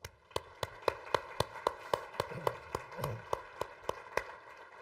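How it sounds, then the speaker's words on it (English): A small audience at a 2012 Ohio State University keynote event claps; the steady, evenly spaced claps are fairly quiet, as if from only a few people, with no talking. "So join me in a round of applause for them,"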